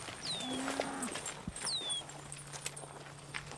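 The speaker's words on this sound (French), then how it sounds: "Paul Chaperon gagne sa vie en vendant le lait de ses 30 vaches." Dairy cows on a small Québec farm with a herd of thirty low and moo softly at a distance, set against steady outdoor ambience with occasional clatter and light shuffling.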